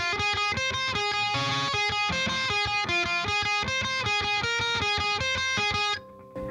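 Distorted electric guitar lead on the first and second strings, layered as a second part over the chorus of a song, playing a steady repeating riff with chords beneath, loud and close, before cutting off near the end.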